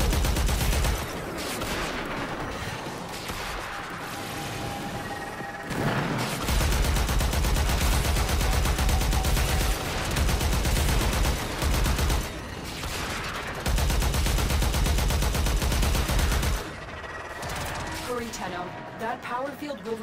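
Sustained gunfire in the sci-fi shooter game Warframe during an attack on an exposed core, dense and loud with brief pauses, layered under game voice lines and music.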